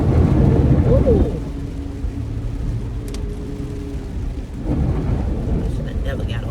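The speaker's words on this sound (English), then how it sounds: "hate, hate, hate driving in the rain" Heavy rain and rolling thunder heard from inside a moving car during a storm, a loud continuous wash of rain with deep rumbles, and a person talking over it.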